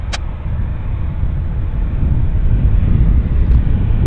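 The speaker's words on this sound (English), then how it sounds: "We've got a Westjet inbound from Terrace, guys, on short finals right now." A WestJet airliner on short final approach into Vancouver Airport, its broad, steady roar building slightly as it nears, heard alone with some wind rumble.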